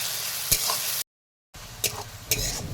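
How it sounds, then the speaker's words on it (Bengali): Onions with whole cardamom sizzle in hot oil as they brown, with a few scraping stirs of a spatula, broken by a brief moment of silence. "ভালোভাবে পেঁয়াজটা একটু লাল লাল করে ভেজে নেব"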